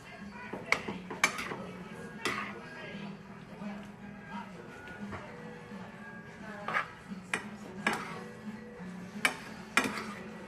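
Vegan chop suey being stirred in a pan, with quiet scraping and several sharp clinks of a utensil against the cookware, faint and intermittent under a person talking.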